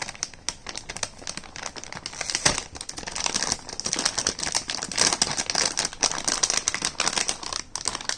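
Packaging for a GTX 1050 Ti OC graphics card is torn and crinkled open, giving steady loud crackling and rustling of plastic and cardboard close to the microphone, with no talking.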